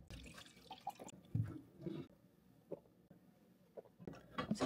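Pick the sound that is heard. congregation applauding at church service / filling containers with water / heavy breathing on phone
filling containers with water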